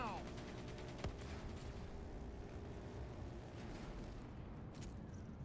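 Missiles fired in the video game Call of Duty Black Ops 3, with a dense, rumbling barrage of blasts and one sharp crack near the start, all loud and continuous.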